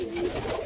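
A square-bodied Rajshahi Giribaz pigeon gives one steady, close coo, a drawn-out low hum followed by a fainter, wavering trail.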